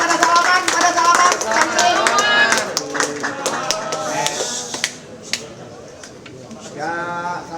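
Guests clap at the close of an Indonesian celebrity event, a dense burst of sharp hand claps with loud voices talking and calling over them, thinning to scattered claps and then fading under chatter.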